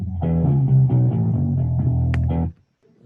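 A bass line runs down through a string of notes leading into a song's pre-chorus, played alone and fairly loud with a steady pulse, then cutting off abruptly into near silence at the end.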